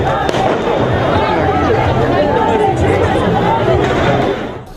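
Fireworks burst over a festive crowd in Dakar, loud crackling pops ringing above a dense murmur of people talking and cheering throughout, fading slightly at the end.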